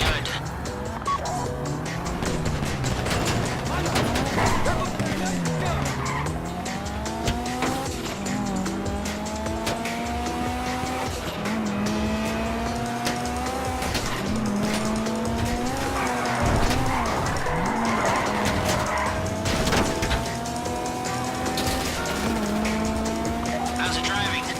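In Grand Theft Auto V, a car engine revs and shifts while tires squeal and skid repeatedly during hard driving, with game dialogue spoken over it throughout.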